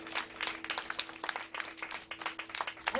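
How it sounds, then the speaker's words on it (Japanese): A big round of applause for a performer at a live debut show in a small club, many hands clapping in irregular bursts, faint and distant, with a steady hum beneath. "もう一度ルーニーさんに盛大な拍手をお願いします"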